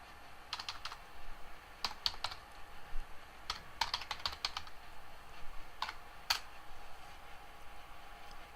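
Typing on a computer keyboard to name a folder in a Linux Mint file manager: light, quick clicky keystrokes in small irregular bursts, close and fairly quiet over a faint background hiss.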